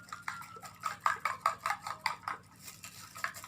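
A spoon stirs a mixture of sliced spring onion and celery in a bowl, making a quick run of rhythmic clinks and scrapes that are close and moderately loud, then ease off.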